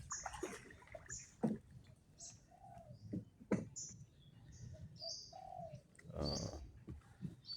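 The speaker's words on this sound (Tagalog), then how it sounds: "Mga huni ng ibon." Small birds chirp and tweet in short bursts against a quiet outdoor background, with a few soft coos and rustles mixed in.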